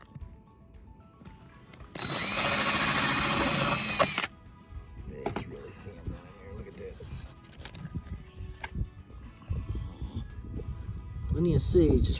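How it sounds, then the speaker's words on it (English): A power drill bores into a thin-walled gourd in one loud, sustained whine of about two seconds, followed by quieter handling clatter and people talking. "We're gonna try to drill a hole right here in it"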